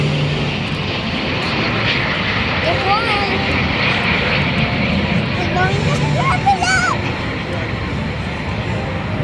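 A Patriots jet team aircraft on its takeoff roll at Beale AFB produces a loud, steady jet engine roar that fills the air, with an announcer speaking over a public address system and crowd noise.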